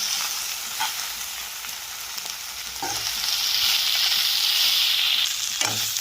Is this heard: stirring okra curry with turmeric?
yes